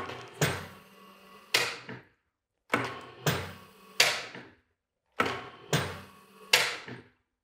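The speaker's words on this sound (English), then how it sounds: "you open maybe 4 to 5 times the brake and close it again" A DX 280 FEA crane disc brake is opened and closed repeatedly in three cycles. Each cycle is a sharp mechanical clunk, a rushing release, then a second clunk, with short silences between and no talk.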